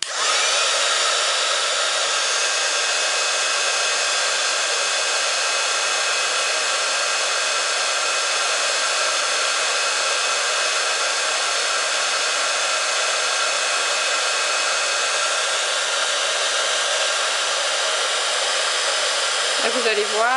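A heat tool blows hot air over embossing paint to make it puff up, a loud, constant fan-driven whoosh that holds steady the whole time and cuts off at the very end.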